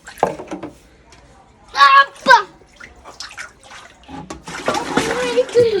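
Splashing and scooping of water being bailed out of a tank, with short bursts of sloshing between quiet gaps, then steadier running water near the end, with voices in the background.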